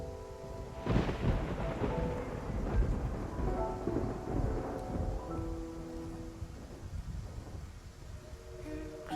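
A thunderstorm at sea in the video game Love and Deepspace, with deep rolling thunder rumbling over continuous heavy rain and rushing water, loud and sustained throughout.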